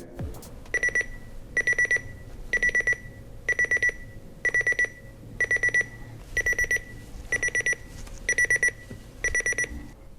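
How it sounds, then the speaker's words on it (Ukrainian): A Philips clock radio's standard alarm beeps in steady bursts of four quick high tones, repeating evenly with short pauses, loud and clear with no talking. "На кожен будильник ви можете обрати або стандартне піщання, ось таке."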